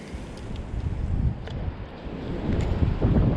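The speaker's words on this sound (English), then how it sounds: "I was really hoping to be out of the wind down here so that you guys did not have to have all this wind noise" Wind buffets a microphone outdoors beside a small waterway in central Illinois on a mild spring day, a continuous low rumbling roar that swells and gusts louder toward the end, with faint ticks over it and no voices.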